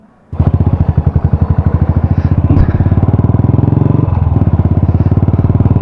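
A Royal Enfield Classic 350 motorcycle with an imported silencer idles close by with a loud, steady, thumping single-cylinder rhythm after starting up, with a brief clatter midway.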